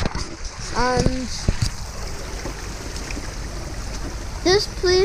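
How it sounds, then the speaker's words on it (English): A river that flows into a canal rushes steadily in the open air, a continuous broad wash of water with a few bright bird chirps cutting through near the start and end. "This river flows into a canal"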